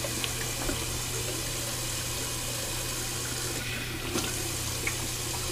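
Cold tap water running as a rinse during a wet shave, a quiet steady splashing stream with faint clinks, fairly close and alone.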